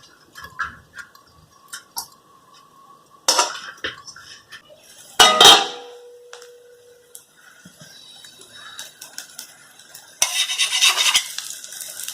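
Thalipeeth flatbread roasts in ghee on a pan, with quiet intermittent sizzling broken by sharp clinks and scrapes of a utensil and a lid against metal, close and sparse.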